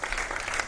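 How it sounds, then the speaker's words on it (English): A studio audience on a televised national forum applauds for itself, a brief burst of dense, steady clapping with no talk. "we ask them to clap for themselves."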